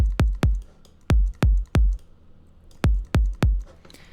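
A shortened tech house kick drum sample programmed in FL Studio plays alone as eight punchy, tight thumps in two quick groups, each with a sharp click and a brief booming low tail, loud and dry.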